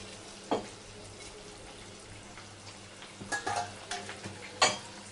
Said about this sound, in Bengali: এবার দিয়ে দেবো ভেজে রাখা মাছ